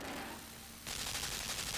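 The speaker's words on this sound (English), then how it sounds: "As soon as you break the beam, the gun shoots the box down" A gun turret in the dark puzzle game Limbo fires in a sudden loud burst of rapid shots after a brief quieter stretch, the shots continuing densely to the end.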